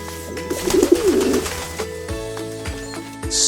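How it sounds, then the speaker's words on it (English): A pigeon gives a soft, rolling coo near the start, fairly quiet against a light rhythmic music track that carries on afterward. "Pigeon."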